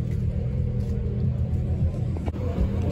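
A low, steady engine rumble from an Audi RS7 at a European cars and coffee meet, continuous and close with a brief dip near the end.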